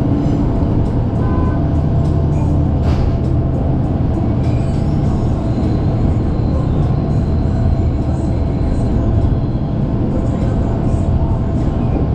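Commuter train rounding a sharp curve near Cilebut, a continuous loud rumble and rolling rail noise that stays steady throughout, with no talk.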